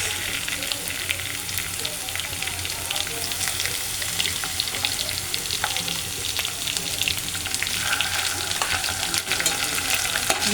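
Ginger-garlic paste frying with onion and fish in a pan makes a dense, continuous sizzle up close, with scattered spits and light stirring scrapes and no one talking.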